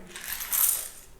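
Coins drop and jingle together, a bright metallic clinking of mixed Indian rupee coins that swells briefly and fades, close and alone.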